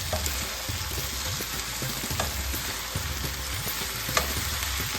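Cauliflower and potato curry with turmeric sizzles steadily in a pan while a spoon scrapes and stirs it in soft, irregular strokes, with a few sharper clinks near the end; no voices.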